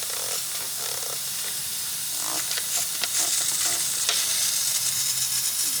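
Steady crackling hiss of spray hitting a hot Nissan RB26 engine near the throttle spring, at a leaking rubber seal, sputtering and popping continuously like water on a hot stove, with engine noise underneath.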